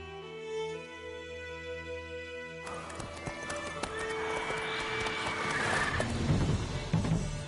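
Roach the horse galloping in The Witcher 3 video game, rapid rhythmic hoofbeats kicking in after a quiet musical opening, growing louder with a whinny-like burst toward the end.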